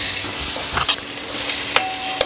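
Tomatoes cook down in a pan for a fenugreek mutton curry, giving a soft, steady sizzle. A few sharp scrapes and clinks of the stirring spoon cut through, and no one speaks.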